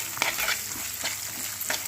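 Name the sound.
green chillies and onions frying in spice mix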